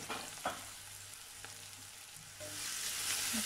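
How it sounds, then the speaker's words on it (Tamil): Onions, green chillies and garlic sauté in oil in a pan, giving a soft sizzle broken by a few stirring knocks. The frying hiss grows louder and fuller in the last second or so. "இப்போ நல்லா வதக்கிறேன்"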